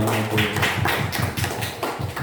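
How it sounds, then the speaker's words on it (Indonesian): Group applause from an audience at an Indonesian school teachers' training session, a steady run of claps with regular low thuds, close and fairly loud, with no voices over it. "Tepuk tangan untuk kita semua."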